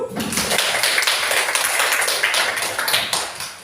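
Classroom clapping during an Islamic religious studies lesson, a burst of brisk hand claps from students that continues steadily for a few seconds at close range.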